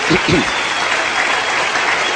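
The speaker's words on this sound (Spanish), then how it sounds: "Démosle un aplauso al Señor Jesús." A church congregation applauding during a pastor's sermon, dense sustained clapping that fills the room, with a brief voice at the very start.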